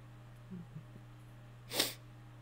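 A single sharp, explosive cough bursts from a man close to the microphone, rising out of a quiet room with a steady low hum and a few faint small noises just before it.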